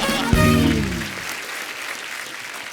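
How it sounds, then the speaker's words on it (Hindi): Studio audience applause on a comedy talk show, starting after a brief musical sting and continuing as a moderate, fading wash of clapping. "जोरदार तालियां."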